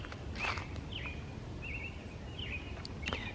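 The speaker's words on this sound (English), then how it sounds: "I think that is a robin." An American robin sings in a park woodland on a March morning: short, clear whistled phrases repeated at intervals over faint outdoor background, with soft footsteps or rustles nearby.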